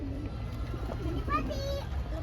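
Pigeons coo in an outdoor spot in Baguio, with soft short calls heard under nearby adults' and children's voices and steady background noise.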